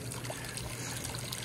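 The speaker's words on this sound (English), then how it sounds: "And then this bear claw turns on the waterfall." Small decorative waterfall on a hot tub at a mountain lodge, running in a steady, continuous trickle and splash of falling water, close and even throughout with no voices.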